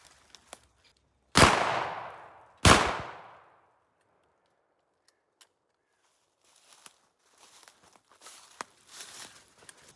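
A semi-automatic 12-gauge shotgun fires two loud, sharp blasts about a second apart, each ringing out in a long decaying echo outdoors, followed by quiet and then faint shuffling and clattering handling noises.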